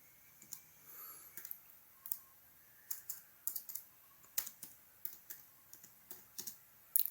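Typing on a computer keyboard while entering a footnote in MS Word, with irregular, quiet clicking keystrokes in short bursts and a few louder taps, close by with no talking.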